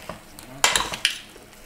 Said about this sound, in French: On en profite pour mélanger un petit peu les pommes de terre.